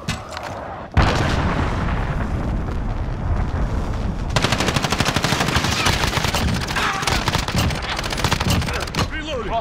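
Call of Duty Modern Warfare Domination match on Hovec Sawmill: a sudden loud blast opens into dense, sustained gunfire and rumbling impacts, with rapid rhythmic automatic bursts through the latter half and an in-game radio voice under the din.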